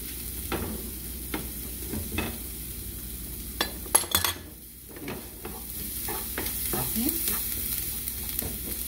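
Two cloves of garlic fry in a pan for a ground-beef lasagna, a steady soft sizzle broken by repeated scraping stirs of a utensil against the pan, close and fairly quiet, with no talking.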